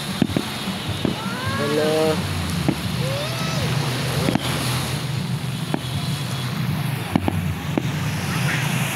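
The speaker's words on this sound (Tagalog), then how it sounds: "Panghuli niyan, malaki yan, yung malakas pumutok." Fiesta fireworks in Naic, Cavite, with booms and crackling bursts scattered through the clip against a busy outdoor crowd hum, while people talk and a whistling rocket rises nearby.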